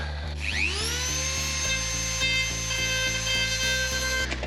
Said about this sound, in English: So I've upgraded from using the file, which is slow and awful, to using a Dremel with this little bit